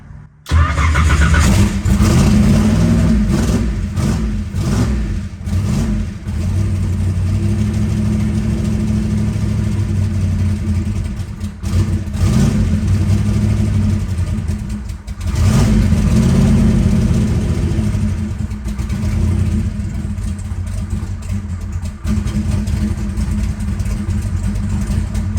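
Twin-turbo big-block Chevrolet Nova engine cranks briefly, fires and settles into a loud, steady, rumbling idle with slight rises in revs, heard close up and alone.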